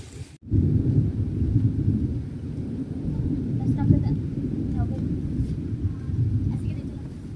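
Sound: thunder and rain

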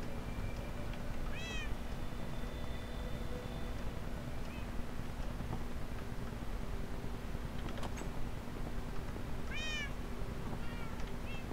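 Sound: cats meowing in Minecraft video game

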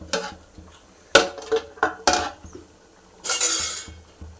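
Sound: stirring curry in a pot

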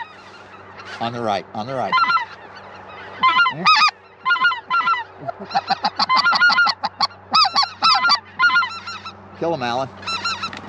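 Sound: Canada geese honking in the fog

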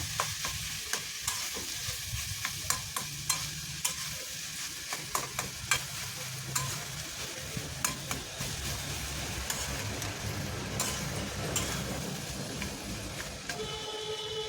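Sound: stirring cauliflower and potato in pan

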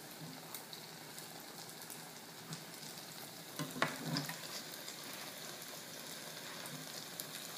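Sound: breadcrumb-coated potato cutlets frying

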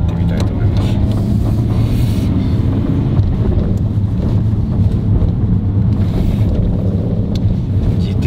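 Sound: Nissan Skyline R33 GT-R driving

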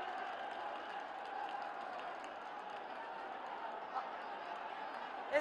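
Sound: loud applause at a public meeting

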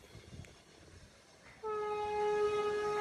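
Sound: Vande Bharat express train horn

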